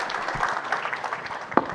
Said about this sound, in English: A big round of applause for all the panelists.